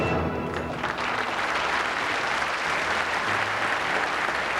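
A television audience applauds Miss Midi-Pyrénées, named fourth runner-up at the Miss France 1991 pageant, with a steady, full wash of clapping that carries through the whole stretch.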